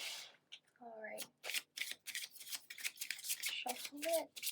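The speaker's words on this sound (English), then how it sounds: "shuffle it, and I'm just going to pull one card" Tarot cards riffle and shuffle in quick rapid bursts, close and crisp, with brief speech in between.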